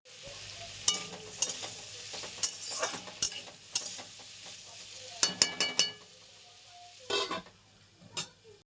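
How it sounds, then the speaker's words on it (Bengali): Potatoes frying in a pan during a home kitchen morning, with a steady sizzle and repeated scraping stirs and clinks of a utensil against the pan. There is no talk. "একদিকে আমার আলু ভাজাটা হচ্ছে"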